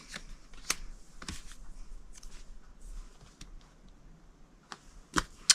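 Scissors cut out a paper piece for a handmade card, with a series of quiet, close snips and paper rustles spread irregularly through the clip.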